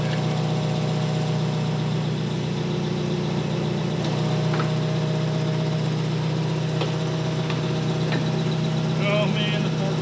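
Diesel forklift engine running steadily at close range as it backs up, a constant low idling rumble with faint clanks, and people talking now and then.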